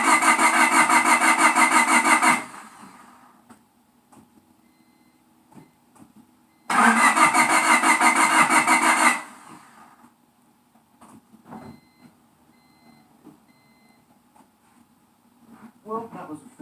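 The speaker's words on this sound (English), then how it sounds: "Alright, let's see if she starts up." An old, cheap car's engine cranks twice without catching, each burst of starter whir lasting about two seconds, followed by quiet clicks and faint rustling; a suspected bad ignition coil.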